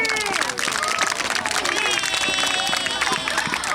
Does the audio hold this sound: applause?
yes